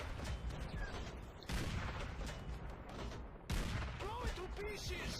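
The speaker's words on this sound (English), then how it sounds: "you're on the top of the mountain right now, just shooting down on all these fuckers" Gunfire in Call of Duty: World at War, shooting down from a mountaintop in the German hills: dense, relentless rattling bursts and booming shots that pile over each other without pause.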